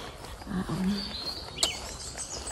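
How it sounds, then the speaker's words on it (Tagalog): Birds chirp outdoors along a short path, a few thin, brief tweets and one sharp high call over quiet background noise, fairly faint and sparse. "naririnig nyo ba yung mga huni ng ibon?"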